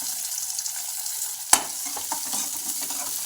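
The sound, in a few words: onion sautéing in oil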